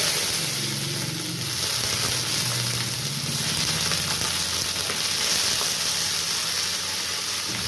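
Potatoes and ridge gourd frying together in a pan for jhinga aloo posto, a constant loud sizzle and hiss with faint stirring scrapes, close and steady throughout.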